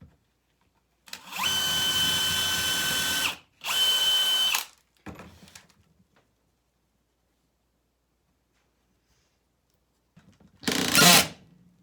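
A power drill driving a screw into scrap 2x4 wood, with two steady whirring bursts close up, a brief trailing rattle, then a short sharp final burst after a pause.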